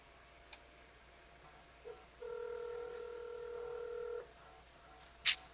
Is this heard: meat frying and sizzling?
no